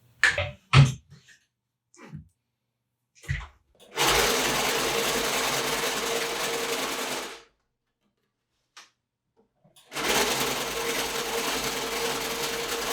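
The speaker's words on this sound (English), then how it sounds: "then I will have to sew the band again" Sewing machine stitching a fabric band, with a few short taps and clicks, then two sustained runs of close, steady whirring, each about three seconds long.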